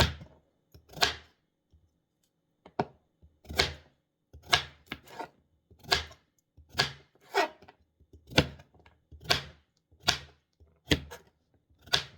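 Carrots are chopped into squares with a knife on a board: a dozen or so crisp, solid knocks in loose bursts, separated by short quiet gaps, close and alone.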